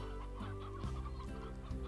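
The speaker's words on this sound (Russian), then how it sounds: "там у нас в курятнике что творится вообще?" Chickens cluck in a coop in the Slime Rancher video game, with several short, close clucks repeating in a quick, uneven rhythm over a steady background.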